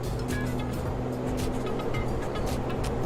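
Twin turboprop engines of an ATR 72-600 airliner in Microsoft Flight Simulator, a loud, steady droning roar with a low hum and whine throughout, no voices.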